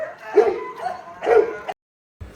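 A boerboel dog gives two or three loud, deep, drawn-out barks close by, ending with a brief silence and the start of another sound.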